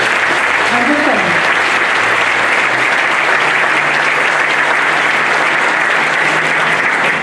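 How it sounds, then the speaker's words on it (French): Continuous audience applause follows a speech at a restaurant gathering, loud and even from start to finish with a few voices audible beneath the clapping. "Je vous demande de l'applaudir"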